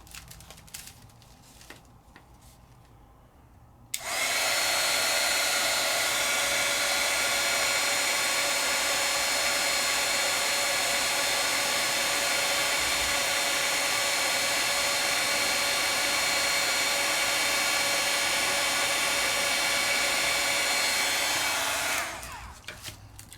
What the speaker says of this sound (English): Now let's take our heat tool and let's heat.